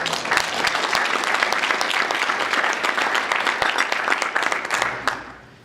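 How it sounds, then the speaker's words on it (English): Lively audience applause at a sustainable travel and tourism breakfast, many hands clapping in a dense, steady patter that holds strong for several seconds, then fades out quickly at the end. "So I'd like a round of applause for Con Edison."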